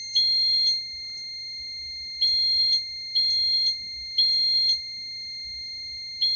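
Smoke alarm sounding in a building, a loud, piercing electronic beep repeating in short bursts with brief gaps between them over a quiet background, with no voices.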